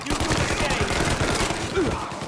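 Rapid, dense gunfire fills a shootout in Mafia Definitive Edition, a loud continuous volley of overlapping shots with shouted voices mixed in underneath.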